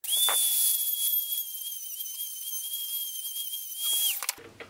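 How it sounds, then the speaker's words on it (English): Dremel cutting wheel grinding down the top of a bicycle saddle bolt, a steady high whine close by that holds for about four seconds before spinning down. "So I'm not going to go deep with this Dremel cutter."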